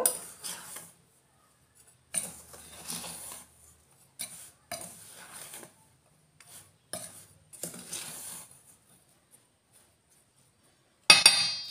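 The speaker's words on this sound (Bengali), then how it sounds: "এবারে গুড়টা দিয়েও ভালো করে মিশিয়ে নেব" A spoon stirs jaggery into a milk powder batter in a bowl, making scraping, clinking bursts of one to two seconds separated by short quiet pauses, close and without speech.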